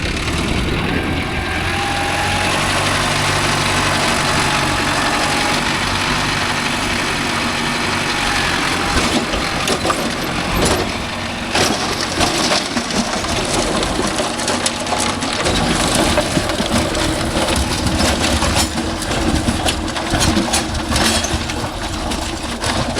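A Mahindra tractor engine rumbles steadily while ploughing a field, loud and continuous with a throbbing low drone and rattling, noisy with outdoor wind-like roar, no talk.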